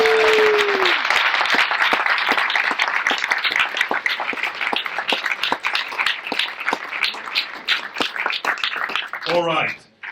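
An audience at an award ceremony during the French Tech Barcelona Impact Summit claps loudly and steadily for several seconds, a dense wash of applause near the microphone that fades out at the end.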